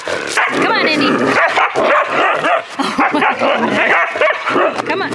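Several dogs at a playful slumber party bark, yip and whimper loudly and almost nonstop, a dense, close chorus of overlapping yaps with a person talking over the din.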